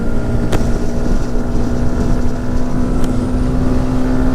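A Yamaha XSR125 motorcycle rides along an open road, its small 125cc engine droning steadily under heavy rushing wind noise, with a couple of brief sharp gusts or clicks cutting through.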